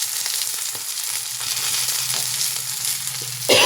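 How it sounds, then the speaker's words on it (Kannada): Chopped onion and green chili tempering sizzle steadily in oil in a pan over medium heat, a continuous close frying hiss with a louder burst of crackling at the end. "ಒಗ್ಗರಣೆ ಹಾಕಿದ್ದೀನಿ, ಸ್ವಲ್ಪ ಮೀಡಿಯಮ್ ಉರಿ ಇಟ್ಟಿದ್ದೀನಿ"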